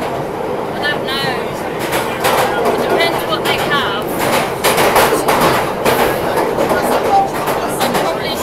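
A London Underground train runs with a continuous rumbling roar and rattling clatter inside the carriage, while people talk over the noise.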